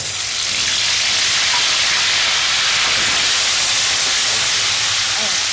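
Bay leaf and ground garam masala frying in a pan for palak paneer, giving a steady, loud broadband sizzle that holds evenly for several seconds with no talk over it.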